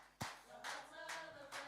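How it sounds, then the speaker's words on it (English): Hand clapping during a church service, a few sharp claps spaced about half a second apart, faint and heard over a background of sung music. "Clap your hands."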